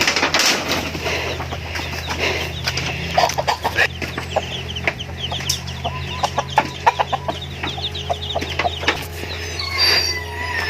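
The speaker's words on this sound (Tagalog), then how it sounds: "Naray ang mga manok iyang pakanon." Chickens cluck repeatedly in short, close bursts over a steady low mechanical hum, with occasional wing flaps and no talk.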